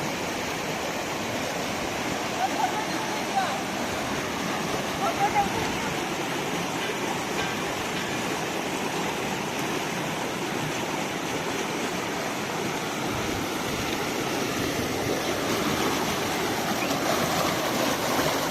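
Stream water flowing steadily at Jalespata, a dense, even rushing wash that stays close and continuous throughout, with faint voices now and then beneath it.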